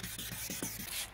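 Sandpaper rubbing over a car headlight lens, a quiet continuous hiss with soft rhythmic strokes, close and alone.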